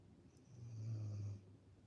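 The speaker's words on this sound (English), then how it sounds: "She snores her ass off." A sleeping dog called Lola snores once, a single drawn-out, low rumbling breath that swells and fades, heard close up against a quiet background.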